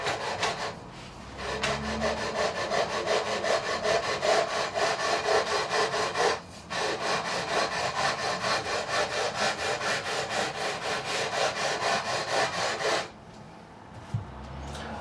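Sanding to level the frets on a PRS SE guitar, a close rapid back-and-forth rasping scrape in steady strokes, broken by two brief pauses.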